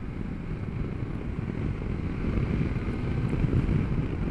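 Steady roaring wind buffet at a BMW S1000XR motorcycle's helmet on a windy day, a continuous loud low rush that swells slightly toward the end, with no voices.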